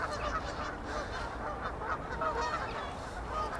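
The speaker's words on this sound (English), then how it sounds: "if there is a God, he will make these geese be quiet because they are gobby as hell" A flock of geese honks continuously nearby, overlapping loud calls forming a raucous, unbroken chorus with no talking.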